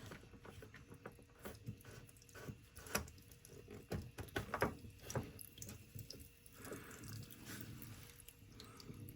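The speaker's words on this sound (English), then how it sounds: "Ran the faucet. A little bit more water coming out, but it's okay." Water runs and patters from a faucet inside an RV with low water pressure, close and fairly faint, in uneven splashing bursts with drips and small clunks.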